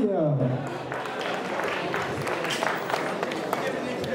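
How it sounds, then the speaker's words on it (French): Applause from an auction audience for the buyer of a just-sold lot, a broad steady patter of many hands sustained throughout at moderate level, with a few voices mixed in. "On peut applaudir l'acheteur, merci."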